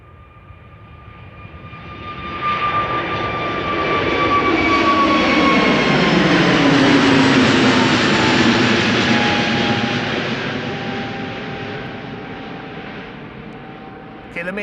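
A KLM Airbus A321neo jet takes off at a busy airport, engine roar swelling over a few seconds to a loud, sustained peak with a whining tone, then slowly fading as it climbs away.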